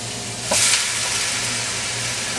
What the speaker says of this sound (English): make sure it is the onion gets translucent. We'll put all the onion.